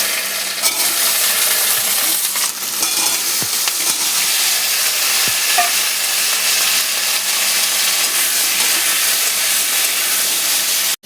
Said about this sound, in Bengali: লাল করে ভাজা হয়ে গেছে, জিরে গুঁড়ো দিলাম